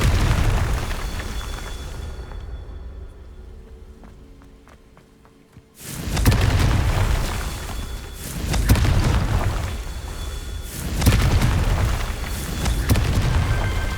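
The Confringo fire spell explodes in Hogwarts Legacy, in the Undercroft. After a quieter stretch, a sudden heavy blast erupts, followed by a rolling series of deep, loud booms that rise and fall with no speech.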